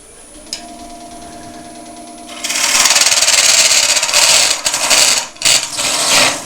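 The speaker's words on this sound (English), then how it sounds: "Just that resin is making that horrible noise." A wood lathe hums quietly, then a harsh, loud scraping grind starts as the tool bites into resin in a spinning kintsugi bowl, continuing with brief dips.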